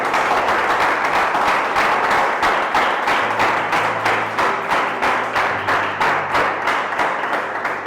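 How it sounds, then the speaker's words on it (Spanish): Congregation applauding in a church service, steady dense clapping from many people throughout, loud and sustained with a faint low tone underneath. "Denle un aplauso al Rey."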